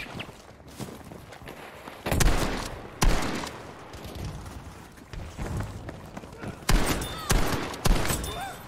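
Shotgun blasts in the Battlefield V video game ring out as several sharp, loud booms at irregular intervals over a busy backdrop of game noise and movement.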